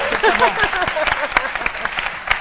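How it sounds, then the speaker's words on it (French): A studio audience on a Côte d'Ivoire TV comedy show gives a short burst of scattered clapping under overlapping voices. "Je pense que ça doit s'applaudir quand même pour l'information."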